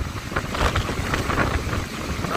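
Strong typhoon wind roars steadily and loudly outdoors, a broad continuous rush buffeting the microphone with low rumbling gusts throughout, stirring floodwater and debris along a shore.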